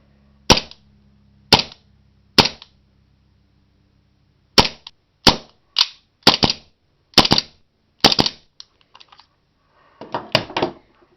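A Tokyo Marui 1911 airsoft pistol fitted with a 150% recoil spring and running on Coleman propane from a propane magazine fires a string of sharp, loud, close cracks, three spaced shots then a quicker series of about ten, with no talking.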